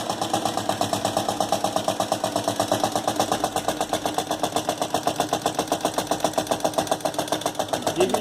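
A small homemade engine built from soda cans runs with a rapid, even chugging pulse, steady and close, with no voices over it.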